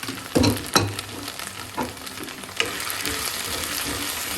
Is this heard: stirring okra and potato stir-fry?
yes